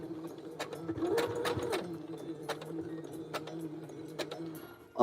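Close, steady clatter of a home sewing machine stitching fabric, with a light rhythmic ticking running for several seconds before a sudden louder bump at the end.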